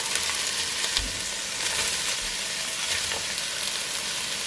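Vegetables sizzling in ghee with chopped onions, ginger garlic paste and garam masala, a loud continuous hiss and crackle up close, with occasional stirring knocks and no talking.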